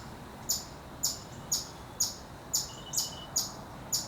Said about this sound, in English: This chipmunk has been chirping away ever since I got in here.